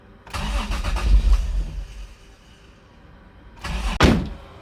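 A Toyota Supra engine cranks and catches near the start, followed by a short quieter lull and then a second loud crank-and-rev burst, heard up close with no talking.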